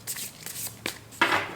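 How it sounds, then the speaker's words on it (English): Tarot cards are shuffled up close in a quiet room, making several short papery riffles and rustles in uneven bursts, with a slightly louder final riffle. "I just felt like shuffling for a little bit"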